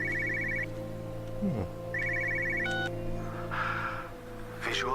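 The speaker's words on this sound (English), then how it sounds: "Phone in the car in the 80s, really?" An old 1980s-style car phone rings inside the video game Everybody's Gone to the Rapture: two clear bursts of bright electronic trilling over a steady low ambient hum, with a brief swell of game noise afterward.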